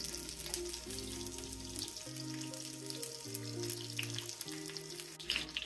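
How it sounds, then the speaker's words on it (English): Onions and garlic sautéing in warmed oil over a medium flame in a kitchen, a continuous soft sizzle under a sustained tonal background, with occasional faint clinks and no speech. "So now your onion and garlic are getting sauteed."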